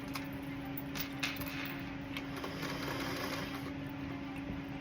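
A sewing machine runs steadily nearby while stitching a homemade gift project, giving a continuous mechanical hum with a faint rhythmic clatter and no voices.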